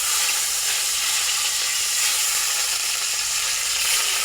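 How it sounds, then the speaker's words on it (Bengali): Fish fries in hot oil in a home kitchen, making a loud, continuous, close hissing sizzle that does not let up, with no voices. "এখন আমি মাছটা ভাজার জন্য তেলের উপর দিচ্ছি"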